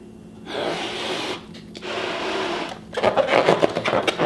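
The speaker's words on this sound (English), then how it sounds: "And let's blow the balloon with air." Someone blows air into a small balloon partly filled with water, producing two long, breathy puffs followed by a rapid, fluttering rubbery rattle, close and fairly loud.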